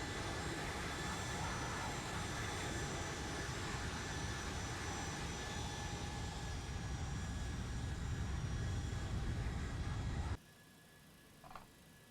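A Boeing airliner's jet engines roar steadily at high thrust with the reversers deployed in X-Plane 11, then cut sharply to a quiet hum near the end.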